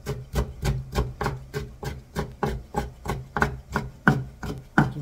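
A kitchen knife finely slices ripe kimchi on a cutting board in a steady run of about a dozen crisp, evenly spaced chops, close up and alone.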